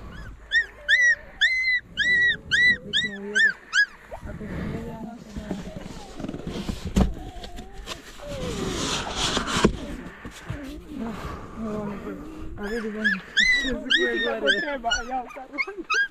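Several puppies whimper and yip in high, wavering cries, in bursts at the start and again near the end, with muffled rustling and movement in between.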